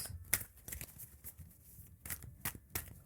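Soft, quick flicks and riffles of cards being shuffled, close but quiet, in several short bursts with no talking.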